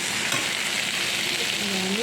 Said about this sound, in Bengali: বেগুনগুলো দিয়ে একটু ভালো করে ভেজে নিই